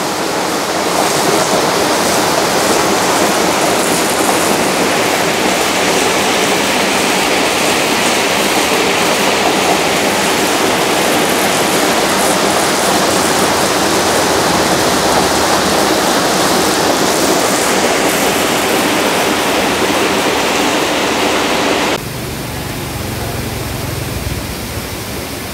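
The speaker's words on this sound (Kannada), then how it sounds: "ಇಲ್ಲಿ ಬ್ರಿಡ್ಜಿಂದ ನೀರು ಎಷ್ಟು ರಭಸವಾಗಿ ಹರ್ಕೊಂಡು ಹೋಗ್ತಾ ನೋಡ್ಬೋದು." Abbi Kolli waterfall in Coorg rushes beneath a bridge, a loud, unbroken roar of pouring, churning water that fills the whole stretch, easing slightly near the end, with no voices.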